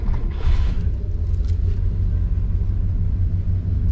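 A 1954 Cadillac Fleetwood running at a steady idle, a close, continuous low engine rumble with no talk.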